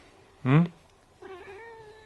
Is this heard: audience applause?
no